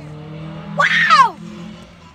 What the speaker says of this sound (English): Do you hear them drifting?